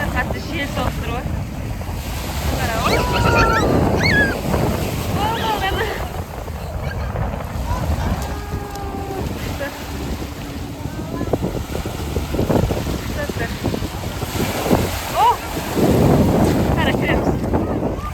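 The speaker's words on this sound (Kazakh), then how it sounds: "Достар, қатты жел соғып тұр ғой." Strong wind buffets the microphone at a lake shore on Alakol, with waves washing in, while several people talk and laugh over the steady roar.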